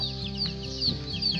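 Chickens cluck in short, repeated calls close by, with high chirps from a rooster and hens layered over a steady farmyard background for the whole brief moment.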